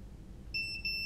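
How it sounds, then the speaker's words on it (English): A ViFly Finder 2 drone buzzer gives high, thin electronic beeps after being plugged in, two short pulsed bursts coming in the second half, close and clear over a quiet background hum. "Plug it in. There's the beep."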